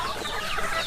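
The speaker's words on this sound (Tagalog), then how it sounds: "may mga manok din kasi doon sa likod" Free-range chickens on a farm clucking in a busy, overlapping flock close by, with no talk.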